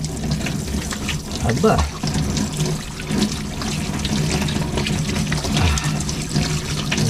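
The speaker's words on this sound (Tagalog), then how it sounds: "Hugas muna ako kamay." A tap runs steadily while someone washes their hands, a continuous splashing of water into a basin, close and fairly loud, with brief speech over it.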